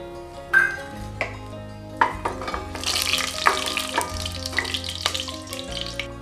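Whole spices such as cinnamon, stone flower and bay leaf sizzle in hot oil and ghee for chana masala, a soft crackling fry with a few clinks of a utensil against the pan.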